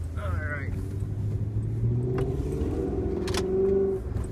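A 2002 BMW 540i E39 rolls along with a low, steady engine drone and faint shifting pitch, heard from inside the cabin while someone talks over it.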